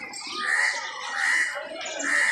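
Pigeons flying near trees, giving repeated bird calls and chirps in three swelling bursts, moderately close with no talk over them.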